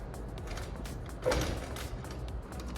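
An apartment door being tried and rattled, giving a single creaking, mechanical clatter near the middle, close and moderately loud over a steady room hum.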